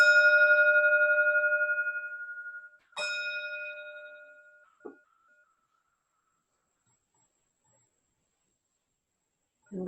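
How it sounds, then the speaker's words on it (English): A meditation bell at a Buddhist service, struck twice about three seconds apart, each clear ringing tone lingering and slowly fading, followed by a soft knock and a long near-silence. "So the bell will transition us into the meditation."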